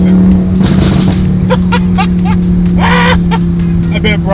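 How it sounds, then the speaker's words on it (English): Loud rear-engined van revving hard, its exhaust crackling and popping in irregular bursts over a steady engine drone, with voices talking over it. "The crackles are insane."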